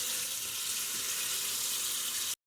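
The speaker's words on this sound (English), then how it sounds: "I'm going to cool it off by filling the sink full of cool water" Cool water running from a tap into a kitchen sink, a steady hissing rush close by that cuts off abruptly near the end.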